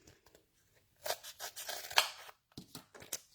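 Scissors trim an adhesive craft sheet in a few short bursts of crisp snipping and cutting, close and fairly quiet, with brief pauses between cuts.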